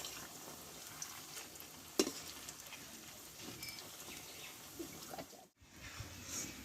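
Malpua batter frying in hot oil, one spoonful after another cooked in the same pan, giving a soft steady crackle with a brief sharp clink and a short dip to near silence.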